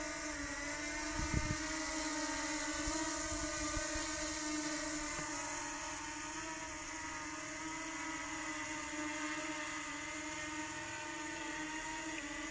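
A DJI Mini 2 drone hovers and descends onto its landing pad, a steady high-pitched whirring rotor drone with a constant motor tone, close and fairly loud throughout, no talking.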